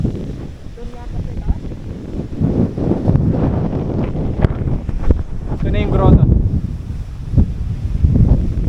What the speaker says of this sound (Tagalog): Ganyang kalakas ng hangin. Nagwawala.